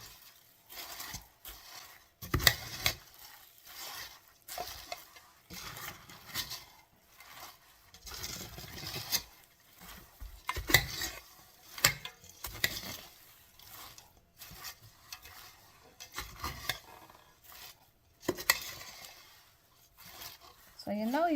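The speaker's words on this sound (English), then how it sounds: "So you know you're almost done stirring when it's kind of coming somewhat clean." A spoon stirring a sticky Rice Krispies treat mixture made with dark chocolate in a bowl, quiet irregular scraping and crunchy rustles in bursts, with someone talking intermittently over it.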